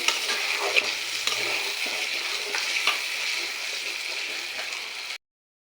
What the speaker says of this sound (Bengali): আলু দিয়ে আলুটা একটু কষিয়ে নিচ্ছি